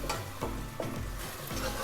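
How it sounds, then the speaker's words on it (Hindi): Taro root with carom seeds frying in oil, a close, steady sizzle with a few quick scraping strokes of a spoon through the pieces. "अब मैं इसको 5 मिनट के लिए जो है इस तेल में अच्छी तरह से अरवी को फ्राई कर लूँगी"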